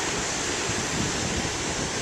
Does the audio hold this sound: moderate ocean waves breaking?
yes